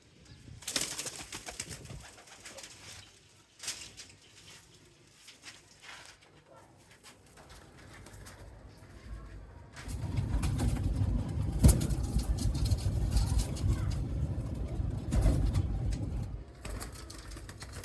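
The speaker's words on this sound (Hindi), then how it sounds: "ये डब वाले कबूतर दोस्तों बड़े कम कराची में देखने को मिलते हैं।" Dub breed pigeons cooing in a Karachi loft, low soft coos with occasional wing flutters, joined later by louder rumbling background noise, with someone talking intermittently.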